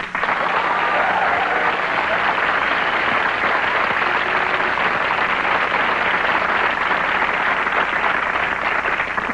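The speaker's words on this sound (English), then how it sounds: "By round of applause, how many people here have never been polled?" A large comedy-club audience applauds steadily, a dense, even wash of clapping that holds at full strength for the whole stretch without a break.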